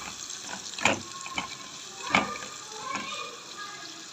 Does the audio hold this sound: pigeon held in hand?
no